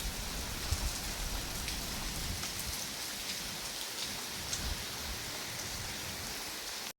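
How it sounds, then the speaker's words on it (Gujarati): Heavy rain pours steadily on a farm, a dense, even hiss of drops drumming on surfaces close by, with no voices and a sudden stop at the end. "અત્યારે જો આ વરસાદ પડે છે"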